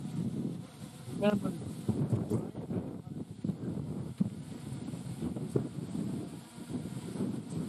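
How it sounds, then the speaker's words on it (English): Gusty wind buffets the microphone outdoors in low rumbling bursts, fairly faint, with occasional louder gusts throughout. "You can hear the wind in the background"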